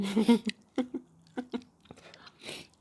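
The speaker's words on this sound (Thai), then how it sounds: "เสียงกินแซ่บนะแจ๊บแจ๊บแจ๊บ" Close, wet chewing and smacking sounds in irregular bursts, with short crunchy bites and mouth noises between pauses.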